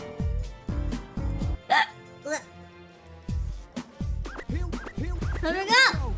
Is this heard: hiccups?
yes